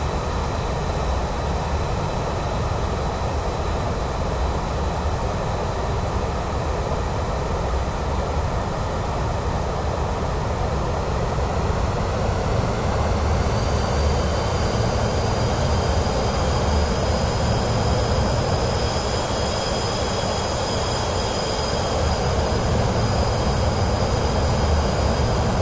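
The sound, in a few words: airplane landing in Microsoft Flight Simulator 2024 video game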